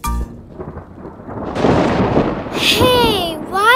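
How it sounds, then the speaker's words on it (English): Cartoon rainstorm in a Cry Babies Magic Tears animated scene: a sharp thunder crack opens, then steady rain hiss swells and continues, with children's voices and whistly tones rising near the end. "Rain, rain, go away"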